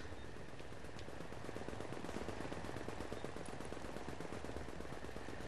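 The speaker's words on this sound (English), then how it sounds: "somebody's shooting like forever over here" Faint, distant sustained automatic gunfire rattles on in rapid bursts through a shootout in the video game The Division, heard under a constant background hiss with no talking.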